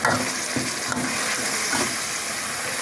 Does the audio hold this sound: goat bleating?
no